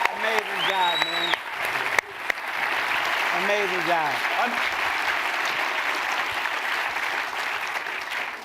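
An audience at a live event with two celebrities breaks into steady, full applause, with someone talking loudly over the clapping during the first half before the applause continues on its own.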